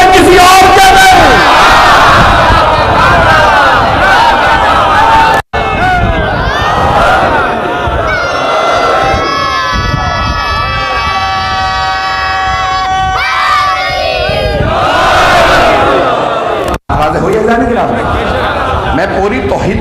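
Large majlis congregation at a Muharram gathering chanting religious slogans together, loud and close, rising and falling in waves of massed voices with shouted calls across the whole stretch, briefly broken twice.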